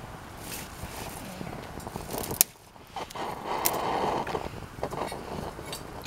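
A wood gas camping stove burns with a strong draft, giving a steady roaring, windy rush with brief louder gusts and crackles, one sharp pop near the middle, close and continuous with no talk.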